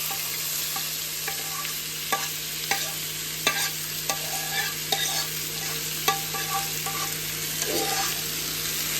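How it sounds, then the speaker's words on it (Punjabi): Capsicum fries in hot oil in a pan, giving a steady loud sizzle with the sharp scrape and tap of a spoon stirring at irregular intervals. "ਤੇਲ ਗਰਮ ਹੋ ਚੁੱਕਿਆ ਹੁਣ ਇਹਦੇ ਵਿੱਚ ਪਾਵਾਂਗੇ ਸ਼ਿਮਲਾ ਮਿਰਚਾਂ"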